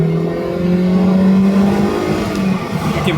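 The engine of a Honda Integra GSR revs loud and close from inside the car, holding a strong steady drone that climbs slightly toward VTEC.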